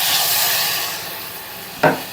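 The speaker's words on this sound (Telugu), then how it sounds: "వేసుకొని ఒకసారి ఇలా కలుపుకోవాలి" Steady hiss of okra curry cooking in a pan, then a brief scraping swish of a spoon stirring near the end.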